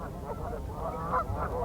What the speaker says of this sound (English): great places for water birds like these Canada geese